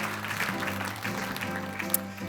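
Audience members at the SPEPS 2019 prize ceremony clap at moderate volume for a few seconds to welcome a speaker to the podium, with a steady tonal drone sounding beneath the applause.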